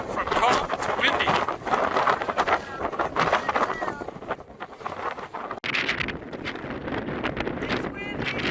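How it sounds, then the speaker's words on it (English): Strong Patagonian wind in Torres del Paine National Park, Chile, buffeting the microphone in loud gusty roars, with voices talking underneath and a brief drop partway through. "It's windy! We're on our way to Salto Grande, and the winds have hit."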